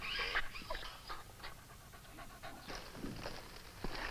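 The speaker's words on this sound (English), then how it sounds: "that boy's dog" An injured dog named Scoots, hurt by a gunshot wound in a radio drama, pants in quick, breathy bursts close by and alone, throughout.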